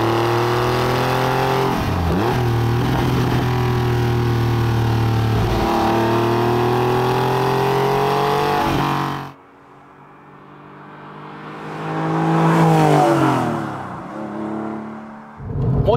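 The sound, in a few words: 1999 Porsche 911 GT3 996 engine accelerating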